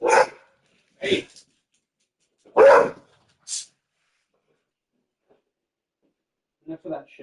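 A dog barks in the Alan Wake 2 video game, with four sharp, loud barks in the first four seconds, then quiet, then a few fainter yips near the end.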